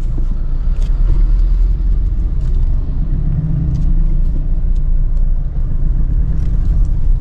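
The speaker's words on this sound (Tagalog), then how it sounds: "Ang daming malalaking truck dito na nadaan." Large trucks rolling past on a busy road, a steady deep rumble of heavy engines and tyres continuing without pause, fairly close and loud.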